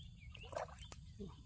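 A brief poultry call, a short gobbling, clucking sound heard faintly against a low background hum.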